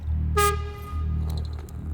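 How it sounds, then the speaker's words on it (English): A trolley horn honks once in the video game Voidtrain, a short bright toot over a steady low rumble of the moving vehicle, followed by faint clicks. "We honk and then we go."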